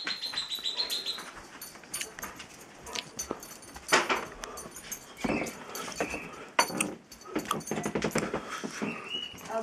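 Low-percentage wolf pups whimpering and squeaking indoors, with high thin cries repeating irregularly at close range against a busy background.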